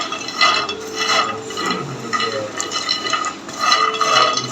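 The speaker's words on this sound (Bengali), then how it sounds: "এখন একটু নাড়তে হবে না হলে প্যানে গরমে কিন্তু পুড়ে যেতে পারে" A spatula scrapes and turns food in a hot frying pan, with rhythmic, close scraping strokes and light metallic rattles repeating in bursts.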